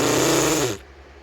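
A cartoon racer character lets out a long, loud, rumbling burp that ends abruptly, heard alone with no talking.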